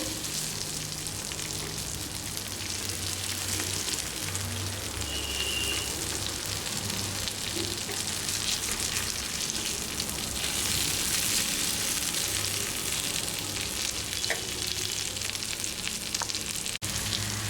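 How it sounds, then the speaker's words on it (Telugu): Small fish frying in oil in a pan give a dense, steady sizzle and crackle like heavy rain. It is close and continuous, with no talking. "ఈ విధంగా ఒక మూడు నిమిషాల పాటు ఫ్రై చేసుకున్నాక ఇప్పుడు నెమ్మదిగా చేపలను టర్న్ చేయాలి"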